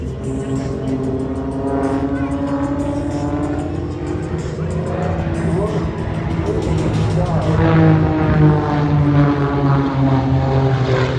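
A propeller aircraft flies aerobatic loops at the Shellharbour airshow, its engine roaring loud and continuous, pitch climbing and falling as it swings through the manoeuvres.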